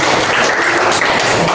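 A classroom of students breaks into dense, continuous applause, loud and close, with many hands clapping at once for the full short burst.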